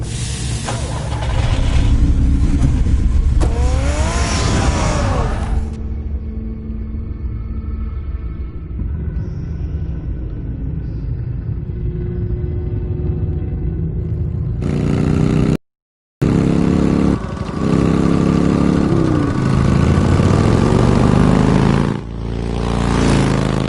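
Batman's car engine in the Telltale Batman video game rumbles loudly and steadily with revving swells, cuts out for a brief moment, then resumes its heavy drone.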